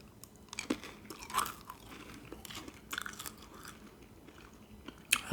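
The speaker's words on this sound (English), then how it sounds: "I'm going to be chewing some gum as usual." Gum being chewed close to the microphone, with soft wet smacks, clicks and crunchy mouth sounds repeating irregularly over quiet background.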